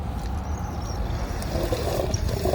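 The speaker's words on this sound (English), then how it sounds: "Get the bonus fuel, wait for the diesel to settle down, and then you fill it right when you see it at the top." Diesel fuel is topped off into the tank of a 2.8 Duramax Chevrolet Colorado or GMC Canyon at the pump. Liquid trickles and gurgles close by in a soft continuous flow, over a faint low background hum.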